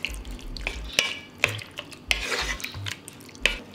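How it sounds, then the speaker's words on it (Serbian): Beef stewing in a pot with warm water is stirred, giving repeated scraping clinks of a utensil against the pot over a soft simmer, close and without talk. "Meso ću promešati i pustiti na nižoj temperaturi da se dinsta 20 minuta"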